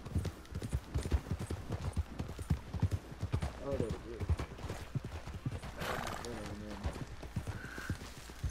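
Horses trotting in Red Dead Redemption 2, a steady run of close clip-clop hoofbeats with a brief whinny partway through, while someone talks over them.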